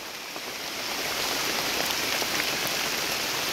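Heavy rain pours down in a dense, even hiss, growing slightly louder after the first second and staying steady, with no voices.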